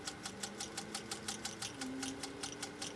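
A 1937 Singer 201-2 sewing machine stitches a lock stitch, running at an even, rapid rhythmic clack with a low motor whine that rises slightly in pitch partway through, quiet and close.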